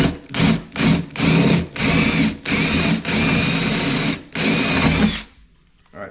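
A power drill bores holes into plywood for an electrical outlet box, giving about six loud, close bursts of whirring and grinding that end in quiet.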